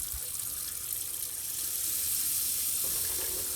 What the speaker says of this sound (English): Just putting it into the bowl and running some cool water.